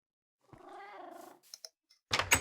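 A Minecraft cat gives a short, close, quiet purring meow lasting about a second, followed by a few soft clicks and a brief burst of louder clicking.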